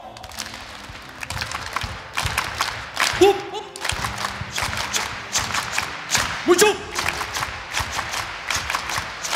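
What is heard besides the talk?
crowd doing sanbon-jime ceremonial rhythmic hand clapping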